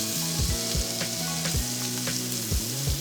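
Beyond Beef frying and browning in a pan, a steady close crackling sizzle with dense spitting pops and occasional scraping stir sounds throughout.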